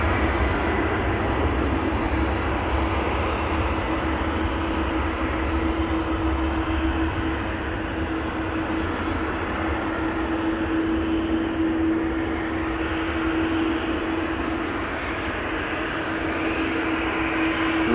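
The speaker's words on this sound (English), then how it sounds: "KLM Flight 573 going to Kilimanjaro, Airbus A330-200, undoubtedly on its way to the runway threshold." A KLM Airbus A330-200 taxis toward the runway threshold at Amsterdam Schiphol Airport, its jet engines a steady, loud, close drone with a constant whine running the whole time and no voices.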